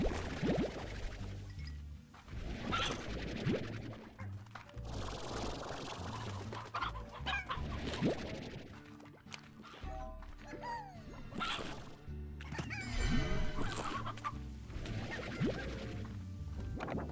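Chickens clucking in the Slime Rancher video game, busy overlapping fowl calls with occasional thumps and crashes, steady and fairly close throughout, with brief talk now and then.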